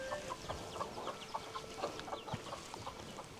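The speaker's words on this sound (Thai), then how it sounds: "โอ้เสียงเป็ดเสียงไก่" Chickens cluck softly in a mountain village, a scattered series of short clucks and chirps at moderate distance over a faint low background hum.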